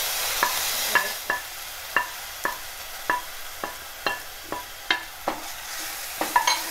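Ground masala paste for kulith (horse gram) sambar stirred and fried in a pan, a low steady sizzle broken by about a dozen sharp spoon scrapes at an uneven pace, close and fairly loud, with no talking.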